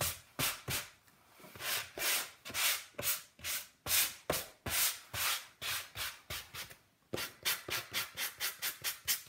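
Painted wood is sanded by hand in quick back-and-forth strokes for a barn quilt hexie project. The scraping is close and steady, with the strokes speeding up into a tighter rhythm near the end and no talking.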